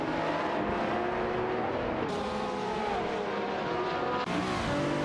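Race cars in a video game, including a Cadillac CTS-V and a Dodge Viper GT2, roar continuously with engine drone and shifting pitch, loud and close throughout with no talking.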